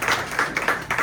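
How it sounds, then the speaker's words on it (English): Brief applause at an aviation event celebrating a special cocktail, with quick, fairly close handclaps coming in small uneven bursts for about a second. "let's give that a round of applause"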